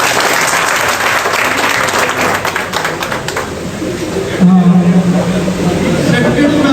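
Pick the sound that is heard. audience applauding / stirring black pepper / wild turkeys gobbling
audience applauding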